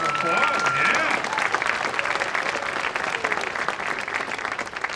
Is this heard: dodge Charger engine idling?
no